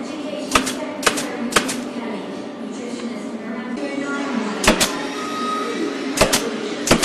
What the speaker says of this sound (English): These are glued and pinned in position, again using an air-driven or pneumatic tool.